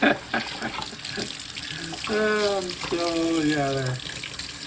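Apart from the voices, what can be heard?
tap water washing green onions in sink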